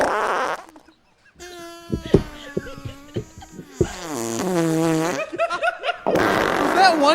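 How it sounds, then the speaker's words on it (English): A long, continuous fart stretching over several seconds, its buzzing, wavering tone rising and falling, with bursts of laughter around it during a podcast-style conversation. "Was that one continuous fart?"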